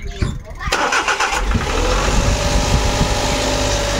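Suzuki Every Wagon engine cranks and starts after a turbo repair and oil change, a brief starter whir followed by the engine catching and settling into a steady, close idle.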